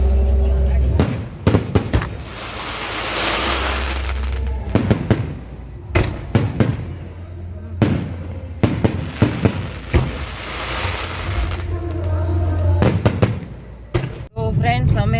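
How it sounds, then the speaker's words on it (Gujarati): Fireworks burst over a wedding celebration in a rapid series of sharp bangs and crackling pops. The blasts come in clustered volleys with brief gaps, sounding loud and close, with voices faintly audible beneath. "હવે તમે આ આતશબાજીનો નજારો તો જોઈ જ શકો છો કેટલો સરસ"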